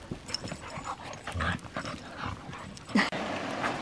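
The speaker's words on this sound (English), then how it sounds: "Happiest puppies ever." Small husky puppies panting, whimpering and yipping close by over steady background noise, with a brief sharper yelp near the end.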